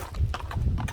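Hooves of a Kyrgyz-breed horse clip-clop steadily at close range in a quick, even rhythm over a low background rumble, with no talking.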